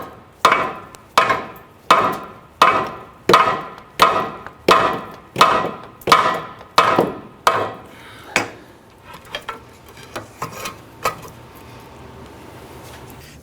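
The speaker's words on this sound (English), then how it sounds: "You can try using a hammer while you're doing this in conjunction to try and shock it to break it free." Repeated hammer strikes on a rusted ball joint in the rear upper control arm of a 1999-2004 Jeep Grand Cherokee, about a dozen sharp evenly spaced metallic blows, then a few lighter scattered taps fading out.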